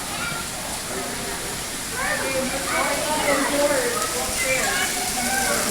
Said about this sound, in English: Oh, it's raining. Raining in the rainforest.